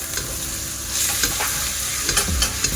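Flour being stirred into broccoli soup in a pot, a spoon scraping and swishing in steady rounds over a soft bubbling simmer, close and moderately loud with no voices.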